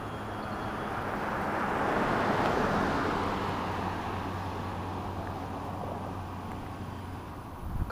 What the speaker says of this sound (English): I hear a car behind me, and they have another car